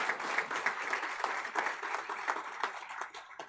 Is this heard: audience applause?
yes